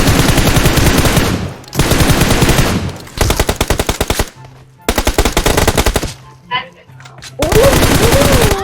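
Automatic weapon fire in the mobile battle royale game PUBG Mobile, with loud sustained rapid bursts separated by short pauses, plus a brief voice in the gaps.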